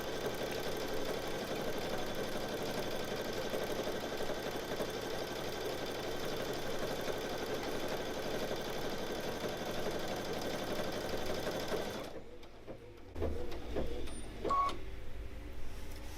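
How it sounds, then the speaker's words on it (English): A Brother Luminaire Innovis XP1 sewing machine motor hums steadily while stitching out a pattern, a close, even whir that cuts off abruptly, followed by a couple of small handling clicks. "It's the motor on here. It sounds lovely when you're actually stitching."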